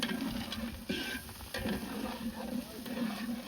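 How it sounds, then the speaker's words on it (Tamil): Ginger garlic paste and cashews sauté in a pan, a steady close sizzle with soft stirring scrapes and light patter throughout. "இஞ்சி பூண்டு பேஸ்ட் வாட போற வரைக்கும் நல்லா வதக்கலாம்"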